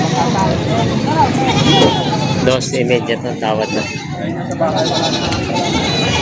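Goats bleat repeatedly at a busy livestock market in Padre Garcia, Batangas, their calls rising over a crowd's steady chatter and close conversation.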